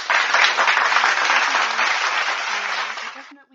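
A short applause sound effect: dense, even clapping and cheering starts at full volume, holds steady for about three seconds, then cuts off abruptly.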